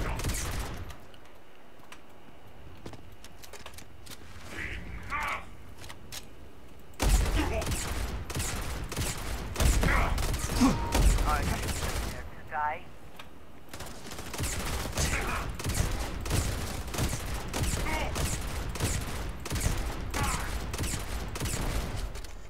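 Video game weapon fire, with dense rapid bursts of gunshots and sustained fusillades that grow louder partway through, running over game ambience with brief pauses between volleys.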